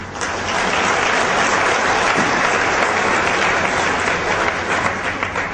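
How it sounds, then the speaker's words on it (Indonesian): Loud, sustained applause from a large audience at a graduation ceremony, dense clapping filling the whole stretch without a break. "Tepuk tangan untuk mereka."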